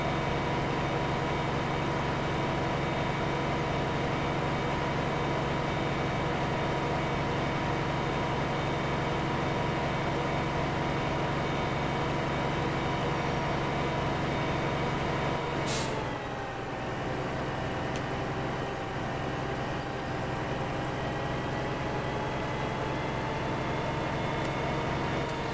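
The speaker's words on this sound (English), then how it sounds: "A lot of grain trucks running now." Grain trucks in Farming Simulator 15 drone steadily in the background, a constant engine hum with one brief hiss of an air brake partway through, no talk.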